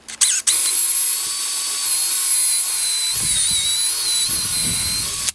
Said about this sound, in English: and just drill through it.